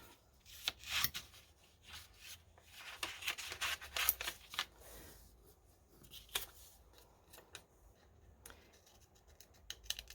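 Scissors snip through a piece of stamped paper, cutting out the inked design in a quiet, close series of short irregular crisp clips with small pauses and paper rustles between them.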